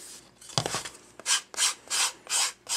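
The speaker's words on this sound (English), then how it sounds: "You don't need to do a lot of sanding." Close, rasping strokes of sandpaper on a wooden photo frame edge: a few quick scrapes, then four even, rhythmic back-and-forth rubs, loud and alone.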